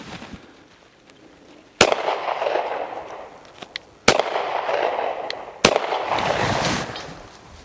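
Three sharp, loud pistol shots from a Smith and Wesson M&P Shield Plus ring out a couple of seconds apart, with steady background noise between each report.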